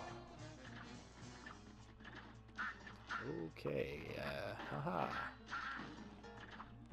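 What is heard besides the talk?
ducks quacking in Cuphead Carnival Kerfuffle, video game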